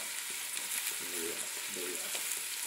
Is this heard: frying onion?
yes